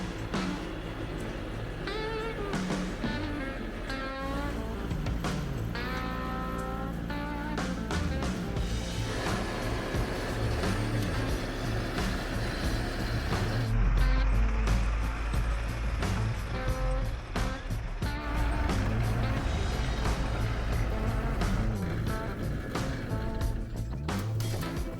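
Homemade snow blower running steadily while throwing snow, a loud continuous mechanical roar with a surge partway through, sustained throughout.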